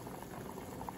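Water at a rolling boil in a cooking pot, a steady close bubbling hiss that stays even throughout with no voices.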